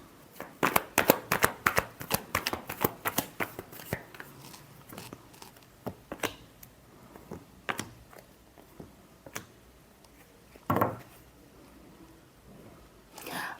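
A deck of tarot cards being shuffled, with rapid riffling flicks at first, then slower scattered snaps and slides of the cards, close and crisp with no talking.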